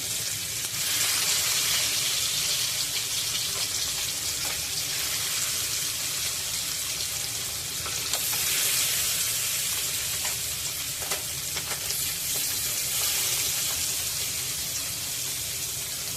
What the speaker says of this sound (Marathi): तर आता खरब्या तव्यामध्ये घातल्यानंतर दोन ते तीन मिनटं त्यांना फ्राय करून घेऊया